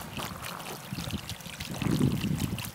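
Water trickles and splashes from a large temple bowl fountain, a steady close stream that swells louder toward the end, heard alone without talk.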